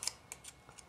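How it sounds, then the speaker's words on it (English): Scissors snip a paper fringe on a handmade doll card, giving a handful of quiet, crisp cuts spaced irregularly, close and soft with no talking. "I just get my scissors and continue the peak there"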